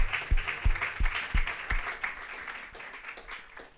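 Congregation at a church sermon applauding, a burst of claps with low thumping hits early on that thins out and fades over a few seconds.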